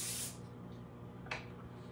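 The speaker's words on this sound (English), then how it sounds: "And it's just this olive oil in that can." A single short burst of olive oil spray hisses close by from an aerosol can onto onion rings, then fades into a low hum, with a faint brief hiss later on.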